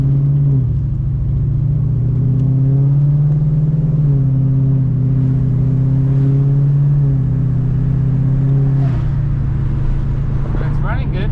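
A Fox body Mustang with a swapped Coyote V8 and exhaust leaks drones along steadily from inside the car, a loud low rumble shifting pitch at gear changes, with faint sounds near the end.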